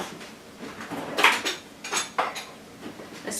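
Metal cutlery clatters and clinks against dishes as a spoon is fetched in a home kitchen, with a few distinct bursts of rattling spaced over a few seconds and no talking.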